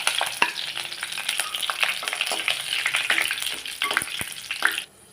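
Curry leaves sputter and crackle in hot oil with popped mustard seeds and dried red chillies, a dense close sizzle with sharp spitting pops throughout, ending abruptly near the end.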